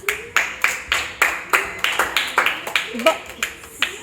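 Children clapping together in a classroom, a rhythmic run of about fifteen sharp claps at a steady pace, near and loud, with a voice briefly heard over them.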